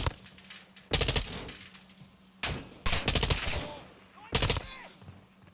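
Gunfire in the video game Modern Warfare 2 while shooting down a target: loud automatic bursts recur about four times amid lighter shots, with a faint steady hum underneath.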